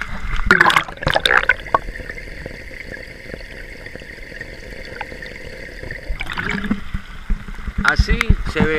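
Clean floodwater flowing and falling steadily through a street drain during flooding in Morón's town centre, a continuous mid-level rush with someone talking over it at the start and end.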